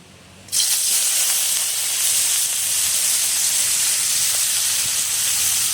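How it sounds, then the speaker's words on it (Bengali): Prawns dropped into hot oil burst into a loud, steady sizzling hiss that starts abruptly and continues close up without talk. "তেলটা গরম হয়ে গেছে, এবার দিয়ে দেবো চিংড়ি মাছ।"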